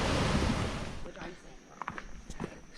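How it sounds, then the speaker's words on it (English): Ocean surf breaking along the coast on the road toward Hana, Maui, a steady broadband wash that is loudest at first and then eases, with some wind noise on the microphone. "Some nice waves breaking in."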